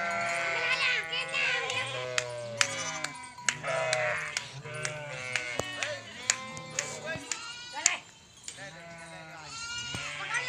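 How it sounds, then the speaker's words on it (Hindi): A large flock of sheep streaming out of a house in a village near Govardhan, many animals bleating over and across one another in a steady layered chorus, close and loud, with people talking throughout. "ये देखो कितनी सारी भेड़ है।"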